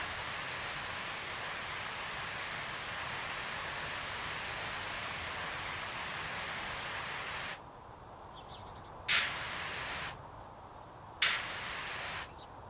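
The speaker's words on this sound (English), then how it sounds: "This is the point where we bring out the metal cleaner." Pressure washer spraying metal cleaner in PowerWash Simulator VR, a steady loud hissing spray that stops, then restarts in two short bursts with quiet gaps.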